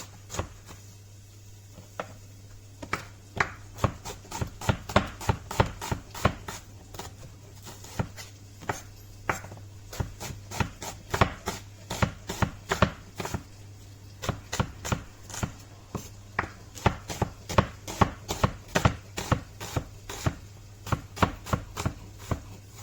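A knife chops a second onion on a cutting board for a turkey tagine, a long run of crisp, rapid taps in quick bursts with short pauses, close up and clear with no talking.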